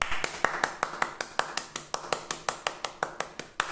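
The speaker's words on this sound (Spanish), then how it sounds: "Un aplauso a ustedes y a mí." Solo hand clapping from one person at a music lesson, sharp separate claps in a steady quick rhythm of about four per second, close and clear with no talk.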